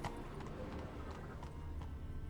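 Horse hooves clip-clopping steadily from the mount Roach in The Witcher 3 video game, a continuous close trotting rhythm over an ambient game background.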